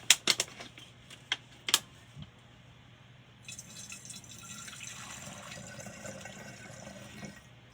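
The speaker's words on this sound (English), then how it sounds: "now I'm going to add a little bit of water." Water trickles steadily into a small potion bottle after a few sharp clicks and taps, a soft continuous pour with no talking.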